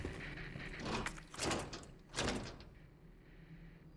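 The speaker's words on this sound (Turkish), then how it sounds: "Kapı" Door opening in Resident Evil 2, heard as a few loud, broad bursts of rattling and sliding with no talk over them, followed by a quieter ambient tail.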